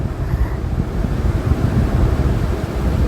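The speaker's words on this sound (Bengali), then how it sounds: "দেখুন আমরা ছানাটা ধুয়ে স্টেনারে করে ছেঁকে নিচ্ছি" Chhana, a fresh cottage cheese being prepared for rasgulla, is rinsed with running water in a strainer, giving a steady, close, rushing splash that holds even and unbroken throughout.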